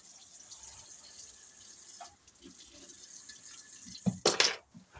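Cold water poured into a bowl for dandelion chocolate chip cookie dough, a quiet low wash that ends in a short loud splashing burst near the end.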